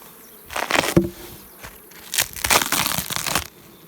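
Honey bees buzzing around beehives outdoors, swelling drones in two bursts as insects fly close past, with faint rustling in between.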